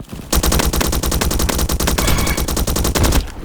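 A Scorpion vz.61 submachine gun in the game Bad Business fires a rapid, even stream of close, loud shots for about three seconds, with a brief stutter midway and no speech.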